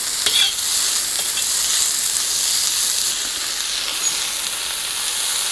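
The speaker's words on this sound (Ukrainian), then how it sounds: "Цибулька смажиться" Continuous hissing sizzle of onions frying in oil, steady and close, with a few faint clinks of stirring near the start.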